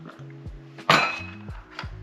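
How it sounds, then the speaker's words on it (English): A spoon works through thick sourdough starter in a larger bowl, with one sharp clink against the bowl's side amid soft scraping and steady tones in the background. "give that a good stir."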